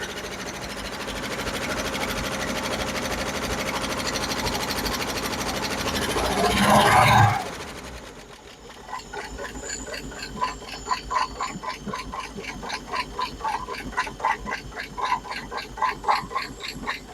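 A 1964 Chevy Biscayne engine with stuck lifters idles loudly, then quiets into a fast, steady mechanical ticking and clicking that repeats rhythmically over the running motor.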